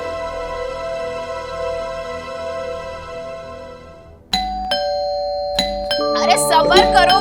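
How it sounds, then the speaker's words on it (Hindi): A doorbell rings at a home, ringing insistently several times in quick succession with bright ding-dong tones, loud and close, following a sustained musical drone. "ऐसी घंटी तो सिर्फ मिन्नी बजाती है"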